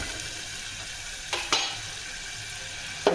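Potatoes fry in a hot pan with a steady broad sizzle, broken by a few brief stirring scrapes and clatters near the end.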